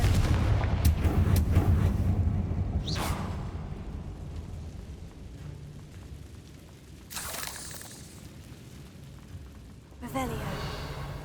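Confringo blasting spells fired in the Hogwarts Legacy video game, with a deep rumbling blast at the start and a few sharper bursts later, separated by quieter ambient stretches.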